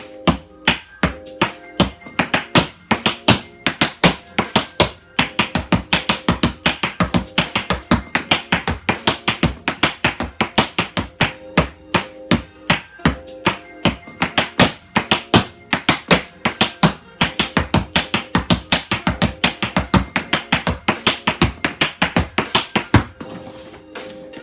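Quick, steady tap dance steps land in a fast, regular rhythm over music played at a raised tempo, with loud, crisp taps running throughout and no talking.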